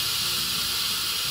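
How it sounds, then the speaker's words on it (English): Steam hisses loudly and steadily from a pressure cooker as a funnel on top diverts the vented jet, a continuous close-up rush with no pauses and no voices. "You can see with the funnel it's diverting the steam as opposed to it rising"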